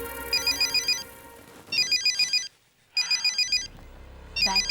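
A telephone rings with a warbling electronic ringtone in repeated bursts, loud and close, each burst pausing briefly before the next, over a faint musical background.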